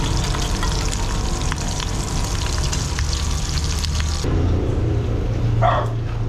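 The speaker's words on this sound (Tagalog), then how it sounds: "puro talsik ng mantika. Itlog kanina, napakatalsik." Oil spitting and crackling hard in a frying pan at an outdoor fiesta cookout, a dense, loud, continuous splatter over a low rumbling background that shifts abruptly partway through.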